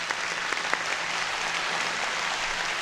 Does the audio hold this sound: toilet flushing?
no